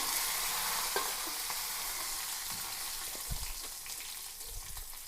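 Curry leaves and dried red chilies sizzle in hot oil with mustard seeds in a pan, a steady loud crackling hiss with a few soft stirring scrapes and pops near the end.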